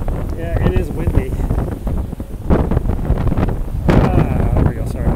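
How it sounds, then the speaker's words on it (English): Strong typhoon wind buffets a microphone on a Hong Kong waterfront, a loud continuous rumbling roar with gusts swelling and easing, while a person talks over it. "Yeah, it is windy."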